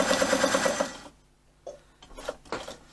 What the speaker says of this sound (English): I'm now going to do a 5-stitch.